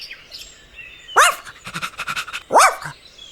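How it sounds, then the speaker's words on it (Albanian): A pet dog gives two loud, close barks with a quick run of softer panting or huffing between them, no voices present. "Qeni."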